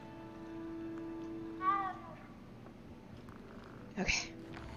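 Cats in the Hogwarts Legacy video game give a short, quiet meow over a low steady background hum, then a brief second cry a couple of seconds later.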